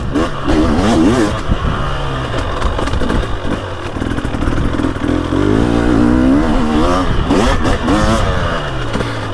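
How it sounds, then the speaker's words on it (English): A two-stroke dirt bike with a TBI engine revs hard and loud in the woods, rising and falling continuously with a rough, buzzing clatter and no pauses. "Now this TBI engine is powerful."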